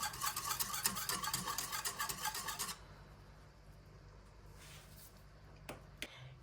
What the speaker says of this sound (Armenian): Կեֆիրը և բուսայուղը նույնպես խառնում ենք։